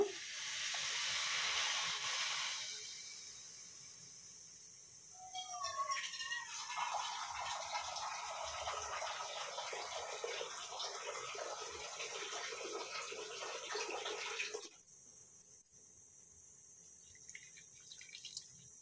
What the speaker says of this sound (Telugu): ఇప్పుడు 2 బౌల్స్ వాటర్ యాడ్ చేసుకుంటున్నాను.